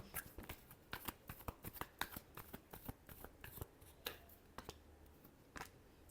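Tarot cards are shuffled in quick, crisp riffles and flicks, a rapid irregular patter of papery snaps close by, with no talk.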